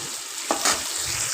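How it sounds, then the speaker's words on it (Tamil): Tomatoes sauté over a low flame for a mutton pepper gravy, a soft close sizzle with a couple of brief stirring scrapes, no talking. "அதையும் நல்லா ஃபைனாக வதக்கிக்கணும்"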